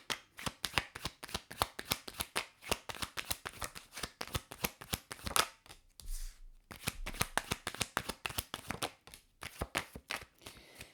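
A deck of tarot cards is shuffled in rapid rhythmic riffles, close and crisp, with a short pause midway before the steady shuffling resumes.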